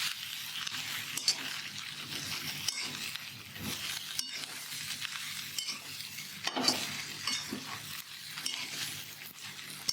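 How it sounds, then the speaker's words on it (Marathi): Stuffed okra (bhendi) sautés in a pan with a quiet, continuous sizzle, broken by soft scraping and stirring strokes and occasional light clinks of a spatula against the pan. "आता ही भेंडी अशीच आपण 1-2 मिनिट अशी चांगली परतून घेऊ."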